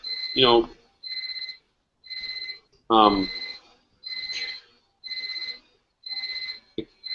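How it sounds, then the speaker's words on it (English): An alarm beeps in regular bursts of about half a second, roughly one per second, loud and close, with two short spoken interjections cutting in between the beeps. "the alarm's going off"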